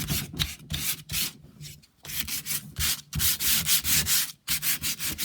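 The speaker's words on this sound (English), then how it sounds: "So we are using like a 120 grit sandpaper." Milk-painted wood is sanded by hand with 120 grit sandpaper: brisk, rhythmic back-and-forth scrubbing strokes, loud and close, with short pauses between bursts.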